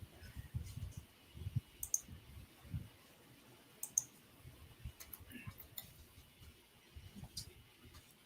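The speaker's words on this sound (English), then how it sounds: "I'm typing." Quiet, irregular clicking of keys on a computer keyboard being typed on at home, soft scattered taps with low background murmurs.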